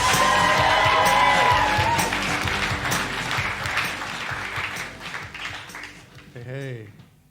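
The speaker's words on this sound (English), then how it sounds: "So start the round of applause. Get some energy in here. Start going crazy." Comedy festival audience in Leicester breaks into loud applause with cheers and whoops, dense and sustained, then fading toward the end as a voice begins talking.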